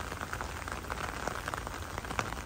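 Rain falling steadily outdoors during an off-road outing, a dense close patter of drops on surfaces with scattered louder drips, continuous and alone.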